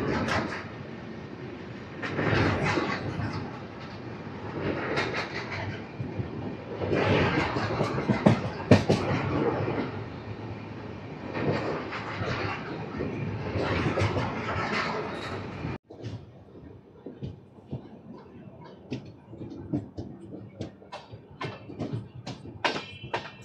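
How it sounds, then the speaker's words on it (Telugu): Rayalaseema Superfast Express train running on the rails after leaving Krishna Junction, a steady rumbling roar for about sixteen seconds that then drops to a quieter rattle with scattered clicks and knocks. "ఒక 10 మినిట్స్ ఆగిన తర్వాత కృష్ణా జంక్షన్ స్టేషన్ చేత మన ట్రైన్ స్టార్ట్ అయిపోయింది"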